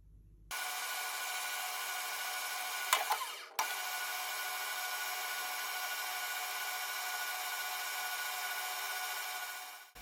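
A lathe knurls aluminium with plenty of oil, producing a faint, steady scraping hum that holds almost unchanged for about nine seconds, with a brief clunk partway through.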